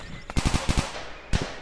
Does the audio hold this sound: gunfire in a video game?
yes